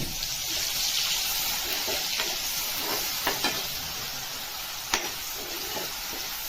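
Ground wet masala paste with turmeric and a little red chilli is stirred as it fries in oil for a whole masoor black-masala curry, giving a steady sizzle with scraping spoon strokes and a few sharper clinks.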